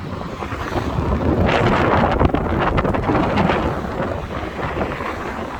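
Wind blows steadily across the microphone outdoors on a rainy day, a broad loud rushing with gusting surges through the middle, no voices present.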